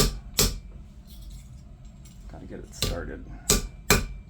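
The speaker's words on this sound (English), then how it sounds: "Then I'm just gonna hammer it on my makeshift anvil here." Hammer blows on 18 gauge copper wire resting on a makeshift anvil: four sharp metallic strikes spaced unevenly, close and loud, with a person speaking briefly between them.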